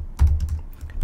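Fingers tap a computer keyboard in a quick, uneven run of close keystrokes, each click and clack distinct and fairly loud with no talking over them.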